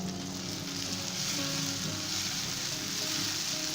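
Tomatoes and green chillies fry with onions in a pan for a fish curry, giving a dense, steady sizzle and crackle that stays loud and close throughout, with no talking.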